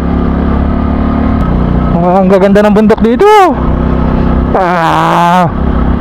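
Euro Sport 110cc motorcycle engine droning steadily on a mountain road, with rising rev sweeps partway through; someone talks over it.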